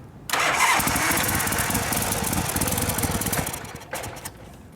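A 1979 Harley-Davidson FXS Low Rider motorcycle engine is started cold with choke, catching after a brief crank into a loud, close, rumbling idle that eases lower, then blips briefly near the end.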